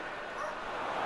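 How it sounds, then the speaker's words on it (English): A dog barks and yips in the background, muffled and mixed into a dense wash of game commentary and crowd noise, with a person talking over it. "if you can hear the dog in the background, I apologise."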